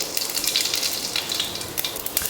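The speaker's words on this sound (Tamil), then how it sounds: "இப்போ எண்ணெய் காஞ்சிருச்சு, கடுகு உளுந்து சேர்த்துடலாம்" Mustard seeds and urad dal crackle in hot oil, a close, loud sputter of rapid irregular pops over a steady frying hiss.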